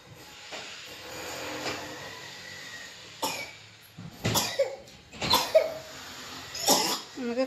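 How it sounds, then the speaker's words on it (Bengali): A person with a cold coughs several times in a quiet room, short rough bursts spaced a second or so apart, the later ones louder and harsher, over faint background hiss. "খুবই কাশতেছে।"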